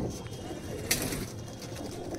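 Low, soft cooing from Andhra Madras pigeons fills a loft, with one sharp bright click near the middle and a little background chatter.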